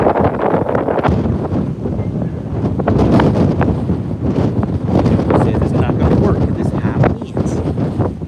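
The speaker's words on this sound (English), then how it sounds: "We just have the high winds right now." Strong wind from Tropical Storm Bertha buffets the microphone in continuous loud roaring gusts on the Gulf of Mexico, with muffled talk faintly underneath.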